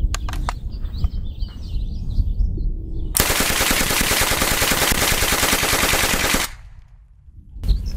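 A submachine gun, an MP40 or Thompson, fires one sustained rapid burst of loud, dense automatic shots lasting about three seconds. A few single shots and birdsong come before it, and a single shot follows after a brief pause.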